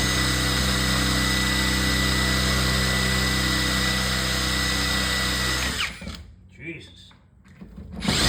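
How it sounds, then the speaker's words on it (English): Close power drill whirring steadily for several seconds while drilling into a 1970 Bally arcade game, then stopping abruptly, leaving a few faint knocks and rustles. "I guess I'll just keep drilling."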